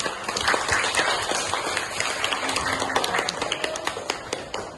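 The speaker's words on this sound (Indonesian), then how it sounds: "Pertanyaan yang bagus, kasih tepuk tangan." Classroom students clap for a good question, a scattered, uneven patter of hand claps filling the room, fairly loud and close, with no clear talking over it.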